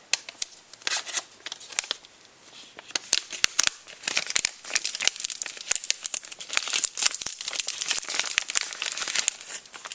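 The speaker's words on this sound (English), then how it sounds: "Okay, so now I'm going to unzip this and take out the contents." Plastic crinkles and rustles up close as a zip bag holding a METRO capacitive stylus is opened and its contents are pulled out, giving a busy run of crackles and sharp snaps with no talking.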